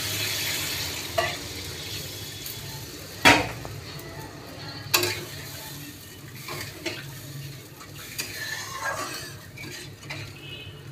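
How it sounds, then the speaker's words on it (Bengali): Water poured onto fried masala spice paste in a pan while cooking a dhoka curry: soft sizzling and bubbling under sharp clinks of a metal spoon against the pan, close and moderately quiet. "দেখো বন্ধু, এবার মশলাটা আমার কষা হয়ে গেছে। এবারে জল দেব।"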